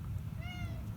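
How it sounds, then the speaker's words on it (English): A black cat gives a single drawn-out meow in the middle, moderately close, over a steady low background rumble. "I saw Cinnabon's black cat friend"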